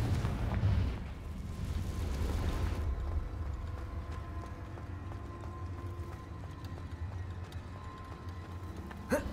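A Confringo fire spell explodes in Hogwarts Legacy with a loud, broad blast at the start that rumbles for about three seconds before settling into a steady game ambience, with a sharp crack near the end.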